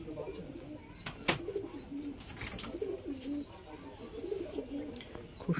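Pigeons in a loft coo in soft, repeated low rolling calls close by, mixed with occasional chirps, scuffs and a wing flutter, while someone talks over them.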